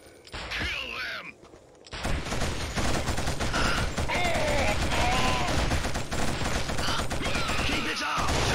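Dense video game gunfire in Killzone, a loud sustained fusillade of rapid shots and bursts that runs almost without a break after a short opening with shouted voices and a brief pause.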